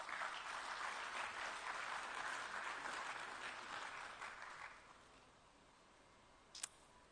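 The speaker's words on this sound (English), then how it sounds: "Shall we give him a round of applause?" Steady audience applause at a closing ceremony for a food sovereignty and resilience event, even clapping from a sizeable hall that holds for several seconds, then tapers off, followed by a single sharp click.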